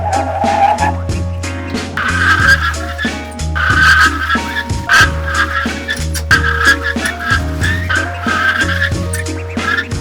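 Tires squeal repeatedly over a loud, steady engine drone as a heavy truck panic-brakes from 60 to zero, the screech rising and falling through the stop.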